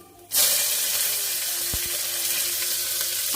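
Whole spices such as bay leaf, cloves and cardamom hit hot oil in a pan for little millet pulao, bursting into a steady, close sizzle that holds evenly to the end after a quiet start, with no talking.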